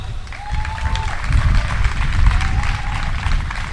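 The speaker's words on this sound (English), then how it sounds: "Please welcome with a big round of applause, Mr. Ronald White." Audience applause at a high school senior graduation ceremony, steady crowd clapping rising slightly in the middle, with faint background voices and low rumble underneath.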